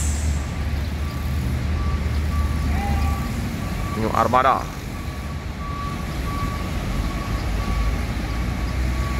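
A large Hyundai bus idles loudly while turning around, a reversing beep chirping briefly, with an engine rumble and people talking nearby.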